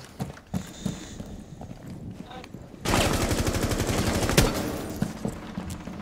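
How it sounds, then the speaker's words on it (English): Gunfire and explosions in the tactical shooter Rainbow Six Siege, with loud rapid bursts and blasts dominating the second half after quieter scattered shots, while players talk over the action. "There's a bunch of explosions."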